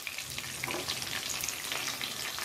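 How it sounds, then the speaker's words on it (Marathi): Two tiger prawns with their legs frying in a pan, a dense, steady hiss and crackle of hot oil, close and even with no talk. "दोन्ही साइडने व्यवस्थित भाजून घेऊ"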